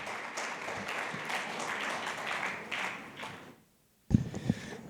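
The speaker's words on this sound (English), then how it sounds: "Can I have here a big round of applause for Rishi Chawla?" Applause from a seminar audience at a chartered accountants' chapter event greets the vice chairman walking on stage: a steady, dense clatter of many hands that thins and stops, followed after a short silence by a brief thump.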